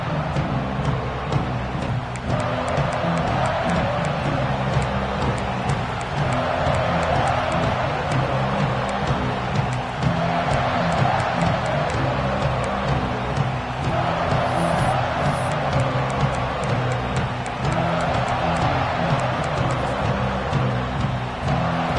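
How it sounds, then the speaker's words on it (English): A football stadium crowd roars in a dense, steady wall of cheering and noise that holds at an even loudness throughout, with no clear voice standing out. "This crowd ready to make its presence known."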